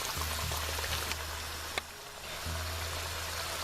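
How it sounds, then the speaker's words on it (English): Chicken curry gravy sizzling in a pan, a steady crackling hiss of bubbling oil heard close up, with a low hum behind it and one sharp click partway through. "This is also sizzling."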